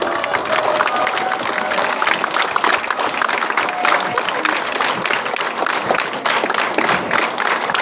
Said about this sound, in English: I also would request the audience to give a standing round of applause to our organizers